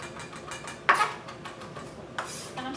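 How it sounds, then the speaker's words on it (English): A knife chopping thyme and oregano on a cutting board in a home kitchen, heard as a few sharp, irregular chops and taps close by against quiet room noise. "which one are you chopping up now? So right now, this is thyme and oregano."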